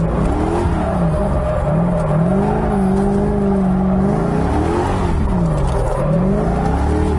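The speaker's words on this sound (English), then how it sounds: "Just gonna do some figure eights around this shit" An LS-swapped Mazda Miata runs figure eights, its V8 holding a loud, steady wavering drone that rises and falls with throttle through each transition, with faint tire noise underneath and no talking.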